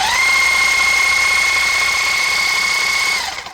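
A Parkside Performance 40V hedge trimmer motor runs at a steady high-pitched electric whine for about three seconds, then winds down and stops.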